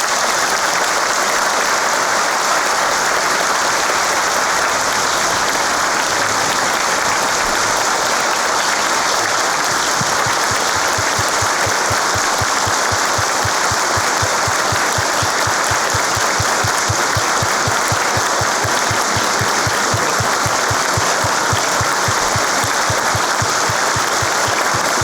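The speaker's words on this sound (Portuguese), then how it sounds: "uma calorosa salva de palmas para o nosso general" An audience at a Masonic lecture applauds a general before he speaks, a long, loud, unbroken wash of clapping, with a rhythmic beat emerging partway through.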